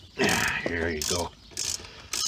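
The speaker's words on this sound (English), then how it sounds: "Who thinks I can get that bolt loose with just a 3/8 socket?" A 3/8 socket ratchet working a bolt loose on the rear brakes of a 2010 Ford Fusion makes loud, close metallic ratcheting with a strained, grinding creak, followed by a few quicker clicks.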